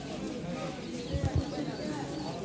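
A pigeon at a busy outdoor pigeon market in Zinjira, Bangladesh, gives a short pair of low cooing pulses, close by, set against a constant murmur of market crowd noise.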